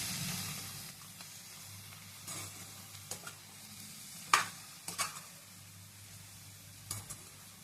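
Ridge gourd pieces fry in a pan with a quiet, steady sizzle, broken by several sharp scraping stirs of a spatula at irregular intervals, close and without speech.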